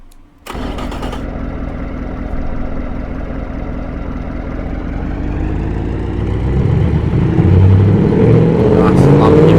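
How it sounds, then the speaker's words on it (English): Lumpy V8 with a second muffler in the Automation engine game, starting up abruptly then settling into a loud steady idle that rises into revving toward the end. "Nice lumpy V8."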